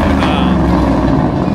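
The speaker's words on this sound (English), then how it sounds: "That truck, guys, right there is absolute beauty. And it was so loud." A big truck on giant tires idles and rumbles loudly and steadily close by, its deep low-frequency drone continuous throughout with faint background noise.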